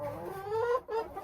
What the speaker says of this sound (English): Watch out, chickens.